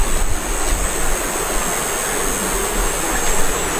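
A strong current of rushing water makes a loud, unbroken roar that stays dense and steady from start to finish, with no other clear sounds standing out.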